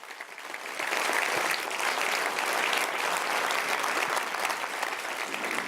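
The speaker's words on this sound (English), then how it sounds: "Give them a round of applause." Audience applause at an annual community meeting, a steady dense clapping that swells in after a moment and holds loud and even throughout, with no voices over it.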